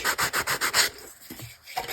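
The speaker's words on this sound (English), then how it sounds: "take some sandpaper and just use the sanding brush" Sandpaper rubs back and forth in quick, even strokes, about seven rasping passes close by, followed by a few softer scrapes.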